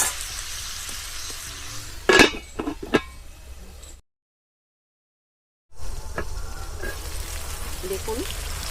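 Chicken gizzards and feet frying in oil in a pan, a steady close sizzle with stirring clatter and scraping, interrupted by a stretch of silence before the sizzling resumes.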